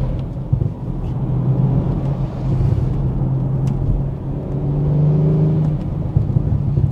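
A 2022 BMW M440i Convertible accelerates hard off the mark, its engine rising in a strong rumbling pitch climb that steadies, then swells again, heard from inside the car.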